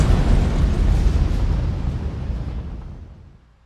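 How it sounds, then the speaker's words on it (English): Animated storage tank explosion in a chemical safety board hot-work demonstration, a heavy deep roaring blast that rumbles loudly and slowly fades away over several seconds. "causing an explosion which blows off the tank lid and the ladder where 3 of the workers were standing"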